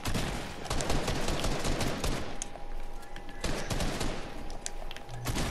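Rapid, dense automatic gunfire from a shooting video game fills the whole stretch, with sustained volleys and a brief pause partway through.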